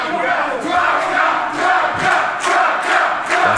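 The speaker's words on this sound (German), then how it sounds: "Das Publikum steht ja eindeutig hinter André Tracker." A wrestling arena crowd at an independent German pro wrestling event chants and cheers in rhythmic surges, roughly every half second, loud and dense, with no clear talk on top.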